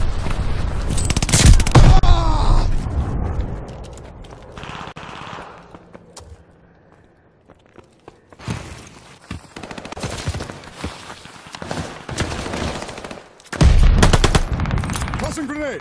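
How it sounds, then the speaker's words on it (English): Bursts of light machine gun fire from a Call of Duty Vanguard match, loud sustained rattling volleys at the start and again near the end, with scattered shots and game noise in between. "The light machine gun."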